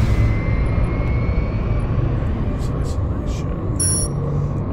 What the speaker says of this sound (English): Rerouting all power to engines.